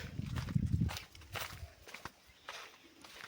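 Several bulls' heavy hooves thud and scuff on the ground nearby, uneven and unhurried, with a low rumble at the start.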